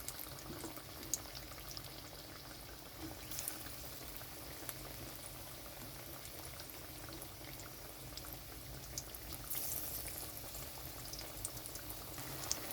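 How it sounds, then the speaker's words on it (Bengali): Pointed gourd slices coated in gram flour batter fry in oil in a wok, giving a steady, quiet bubbling sizzle that continues evenly throughout with no talking. "তো এখন আমি এগুলো দিয়েছি ভাজার জন্য তো ভাজাটা এখন হচ্ছে"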